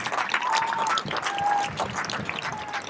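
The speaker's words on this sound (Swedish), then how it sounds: "En applåd för Eva." A crowd at an outdoor protest rally claps and cheers in a steady, dense wash of applause, with scattered whistles and voices mixed in throughout.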